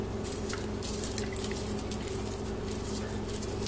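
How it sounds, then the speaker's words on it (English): Coconut water trickling and dripping from a coconut pierced with a cork, a steady close patter of liquid running continuously over a low background hum. "As you can see, some water is coming out"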